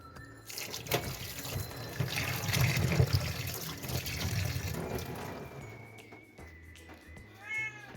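A cat meows repeatedly at close range in a home kitchen, short rising-falling calls near the end over running tap water filling a sink, no speech.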